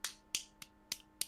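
Five crisp finger snaps, used as applause at a Dungeons and Dragons table session, ring out at an uneven pace, close and fairly quiet, with no talk over them.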